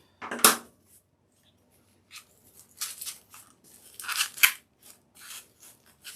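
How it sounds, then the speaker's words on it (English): Scissors snipping decorative mesh for a fall pumpkin wreath, a sharp close cut, then after a pause a run of quick crunchy snips and rustles. "I have to use my scissors."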